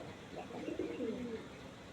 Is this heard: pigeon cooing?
yes